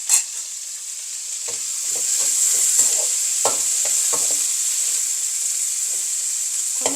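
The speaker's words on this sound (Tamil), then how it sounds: "இந்த கத்திரிக்காய் கொஞ்சம் வதங்கட்டும்" Brinjal (eggplant) sautéing in a pan for a prawn and brinjal curry: a steady, close sizzle of oil with repeated scraping stirs and light clatters throughout, and no speech.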